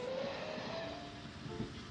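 An animated train makes a simulated cab ride along an imaginary branch line and passes another train at a station. A steady rolling rumble with faint tonal whines carries on at an even level for the whole stretch.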